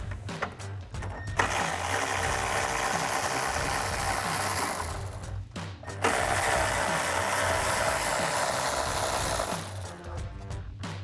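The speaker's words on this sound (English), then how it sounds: "And now we can grab our 10mm socket for our 2 bolts." A 10mm socket ratchet removes bolts from a vehicle's bumper area, giving a steady, loud mechanical whirr in two long runs with a short pause between them and no talk.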